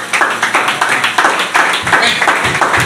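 A church congregation clapping loudly and rhythmically to acclaim Jesus, a steady close beat of hand claps with voices mixed in underneath.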